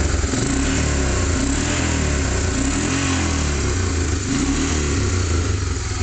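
A 1988 Honda Fourtrax TRX300 2x4 ATV engine runs steadily nearby, a continuous mid-pitched motor drone with slight revving variations and no talking.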